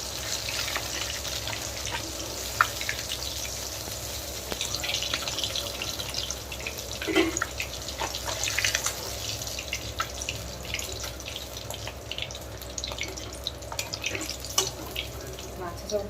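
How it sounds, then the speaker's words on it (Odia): Pieces of Bhakura fish fry lightly in oil for a kalia curry, making a steady, low hiss with scattered small crackles and pops, while faint voices murmur in the background. "ମାଛ ଆମର ହାଲକା ହାଲକା ଭାଜି ହେଇକି ଏବେ କାଢ଼ିଦେବା"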